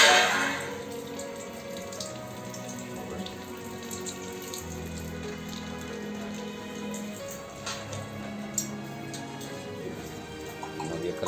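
Water runs from a Ni Tech alkaline ionizer into a collection tube, a steady, soft splashing trickle that continues throughout at low level.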